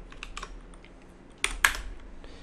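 Someone types on a computer keyboard, a few soft scattered keystrokes and then two louder, sharper key presses close up near the end.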